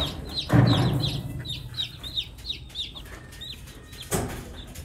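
Chickens cluck while being fed alongside ducks, a string of short repeated calls at a moderate distance, broken by a couple of louder rustling thumps, with no one talking.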